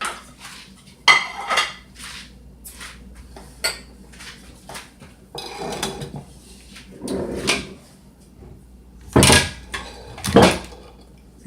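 Blueberries tipped into a metal baking pan for a cobbler, then kitchen items shifted aside: a series of loud, close clattering bangs and scrapes of pans and utensils, spaced irregularly with quieter handling between.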